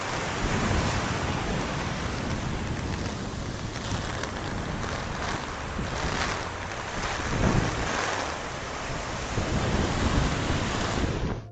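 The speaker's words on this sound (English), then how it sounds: "Minutes later, the drizzle transformed into a relentless wall of rain that swallowed entire districts." A relentless wall of heavy rain falls over Tokyo in a record-breaking downpour, a constant loud hiss with low rumbling swells, steady for the whole stretch with no voices.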